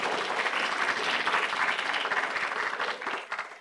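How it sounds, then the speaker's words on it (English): Lecture-hall audience gives steady applause for a keynote speaker at a law lecture, a dense patter of many hands at moderate volume that tapers off near the end. "A little clapping for that."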